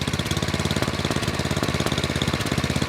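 An 11hp Tecumseh engine on a snowblower idles steadily up close, its rapid, even firing pulses thumping in a continuous rough rhythm with no talking.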